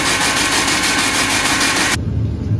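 A tractor engine runs while baling corn stalks, a loud steady mechanical roar that cuts to a lower rumbling drone partway through.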